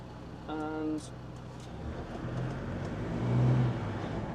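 A Land Rover Defender Td5 fitted with a Darkside turbo drives on the road at a low, steady engine drone that swells toward the end, with a tone chime and some voices over it.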